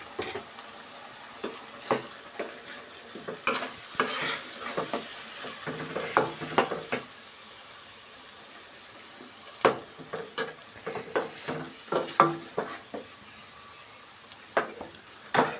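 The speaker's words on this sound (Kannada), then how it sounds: "ಅದರಿಂದ ಮಸಾಲೆನ ಚೆನ್ನಾಗಿ ಆಯಿಲಲ್ಲಿ ಫ್ರೈ ಮಾಡ್ಕೊಳ್ಳೋಣ" Ground masala is stirred and fried in oil for an egg sambar: a soft sizzle sits under repeated sharp scrapes and clinks of a spoon against the pan, irregular and close.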